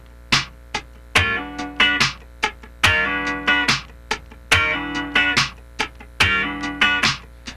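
A funk rhythm guitar slide pattern is played with the left hand holding the chord down while the right hand floats. Ringing sustained chords are broken by quick muted stabs in a steady, syncopated sixteenth-note groove, close and alone.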